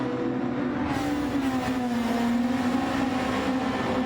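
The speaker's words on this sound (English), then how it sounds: "Verstappen chases down Russell down the main straight." A Formula 1 race car screams along the main straight at Suzuka in a racing video game, a steady high engine whine held at a constant pitch throughout with no break.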